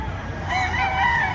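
Chickens cluck and a rooster crows in the background at a poultry market in Padre Garcia, Batangas, Philippines, a short stretch of farmyard fowl noise with no talking.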